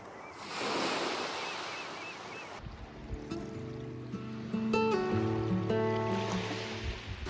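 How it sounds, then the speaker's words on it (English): Ocean waves wash on the Arctic Ocean shore in Norway, a soft steady surf rush with wind on the microphone, later joined by a clear tonal melody over the wash. "Camping right on the Arctic Ocean."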